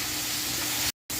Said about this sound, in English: looks like they're frying up good